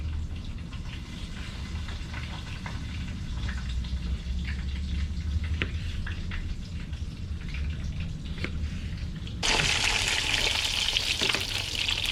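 Catfish frying in very hot oil gives a steady, close crackling sizzle with scattered pops and spits, then a sudden louder, brighter hiss near the end as the oil flares up; no talking.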